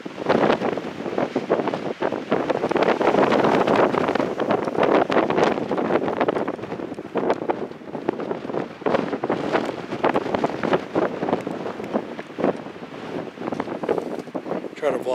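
Strong wind batters the microphone in a continuous loud roar with rough gusts, and a voice is faintly heard beneath it.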